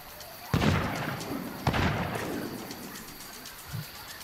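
Two sharp gunshots in the video game Sea of Thieves ring out with echoing tails, followed by a softer thud; otherwise quiet.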